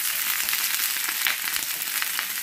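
Onions fry in a pan for an eggplant and tomato mash, giving a dense, steady, close sizzle with fine crackling and no voices over it.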